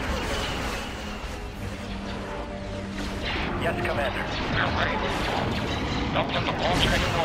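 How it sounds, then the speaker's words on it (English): Laser cannons firing in a Star Wars Empire at War Remake space battle: a continuous barrage of rumbling blasts and crackling impacts, loud and layered, with zapping bursts growing denser toward the end. "Open fire on those laser cannons"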